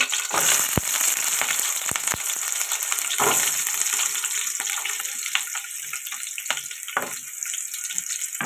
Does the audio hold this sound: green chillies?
yes